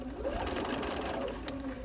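A Bernina sewing machine runs a straight forward stitch, a steady close motor whir with rapid needle chatter throughout, a faint tick near the end.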